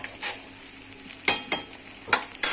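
Spoon stirring cumin powder, red chilli and salt into pasta frying in a pan, with a soft sizzle underneath and several sharp scraping strokes, the last few louder.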